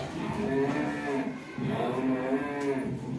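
A buffalo moos twice, close and loud, two long, deep lowing calls separated by a brief pause.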